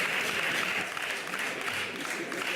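Applause from the benches of a parliament chamber, a dense, steady patter of many hands clapping at middle distance, sustained throughout without a break.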